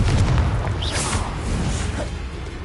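A Confringo spell explosion in Hogwarts Legacy, a loud, deep boom followed by a rushing, crackling burst that fades gradually over a couple of seconds.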